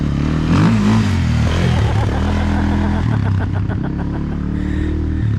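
A 400 dirt bike engine revving on a trip to the Glamis dunes, a loud, close, buzzing motor with steady harmonic drone rising and falling with the throttle, and a voice briefly heard beneath it.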